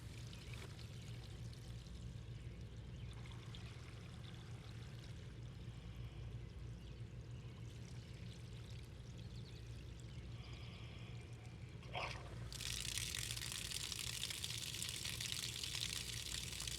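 Water rushing and pouring steadily through a three-stage carbon filtration setup and hose line for an RV camper, a continuous close splashing flow that swells louder and brighter near the end.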